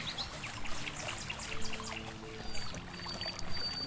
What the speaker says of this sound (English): So the sound of the river is also working